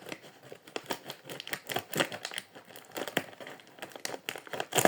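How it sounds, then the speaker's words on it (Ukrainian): Scissors snip repeatedly through a crinkly plastic bag, producing uneven crackling and rustling bursts, close and moderately quiet. "Розрізаємо наш пакетик."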